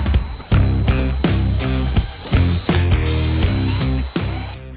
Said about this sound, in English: Now I'm going to need to drill the holes to allow me to wire the end caps.